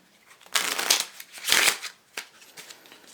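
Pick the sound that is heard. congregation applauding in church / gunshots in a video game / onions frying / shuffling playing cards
shuffling playing cards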